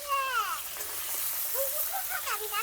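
Cauliflower and potato fry in a pan for a Bengali katla fish dish, giving a continuous close hiss with short high-pitched vocal sounds over it.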